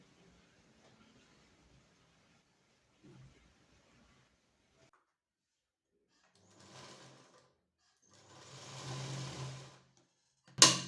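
A sewing machine stitches blouse fabric in short, faint bursts: a brief run, then a longer few seconds of stitching, ending in a sharp thump, with quiet pauses in between.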